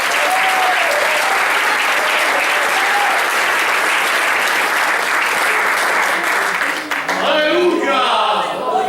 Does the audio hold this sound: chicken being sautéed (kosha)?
no